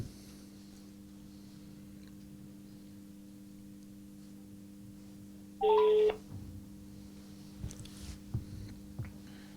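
A telephone call rings over a speakerphone in a quiet room with a steady electrical hum, a single short ringback tone burst sounding once midway, followed by faint clicks and handling noises.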